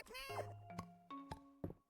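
A cartoonish cat meows repeatedly in the farming life-sim game Fields of Mistria, a few short, bright tonal mews in quick succession with soft thunks between them.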